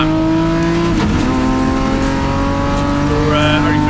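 BMW race cars in a Class D race at Zwartkops come out of turn 2, engines roaring loud and close with sustained revving tones. Faint tire noise sits beneath.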